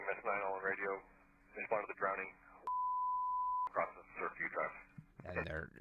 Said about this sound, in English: They're beeping out his address